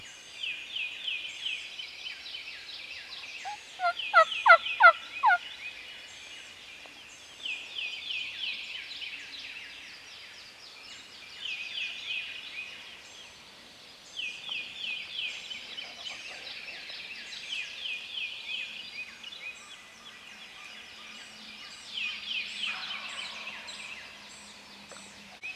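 Raspy, rhythmic turkey calls repeat aggressively in bursts during a turkey hunt, with a short gobble-like rattle partway through, moderately near in a quiet outdoor setting.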